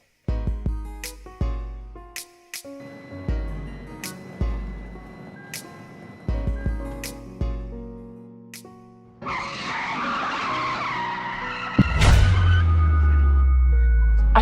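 A car braking hard: after a stretch of music, the tires break into a loud, sustained skidding squeal lasting a few seconds, ending in a sudden heavy low thump.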